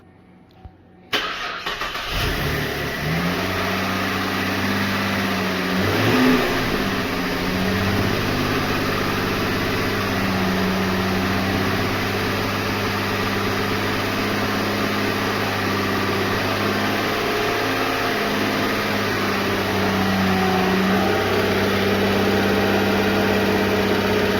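A salvage 2013 Cadillac ATS cranks and fires after a sharp click, then settles into a steady, close idle that runs on evenly, with a slightly uneven hint of misfire under the drone.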